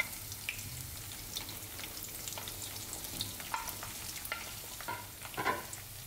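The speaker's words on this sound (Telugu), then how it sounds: "నూనె కొద్దిగా వేడెక్కిన తర్వాత దాంట్లో ఈ కట్ చేసి పెట్టుకున్న ఉసిరికాయ ముక్కలు వేసేయాలి" Cut gooseberry pieces fry in hot oil in a pan for a pickle, giving a quiet, steady sizzle broken by occasional soft stirring clicks.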